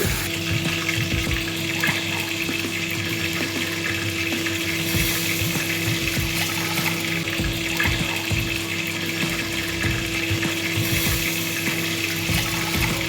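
Water streams steadily into a pot of rice for chicken mandi, a continuous close splashing flow with a constant hum beneath.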